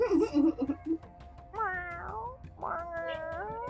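A black cat lets out several close meows, short chirpy calls at first and then two longer drawn-out wails, with faint talk in the background.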